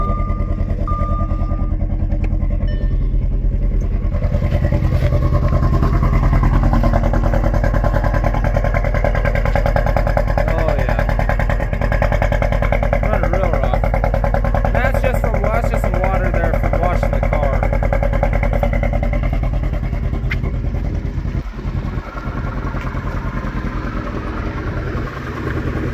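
A 2009 Audi A4 Quattro 2.0T in poor condition, with a clutch that does not work, runs continuously at close range. Its loud, rough engine drone holds steady for the whole stretch.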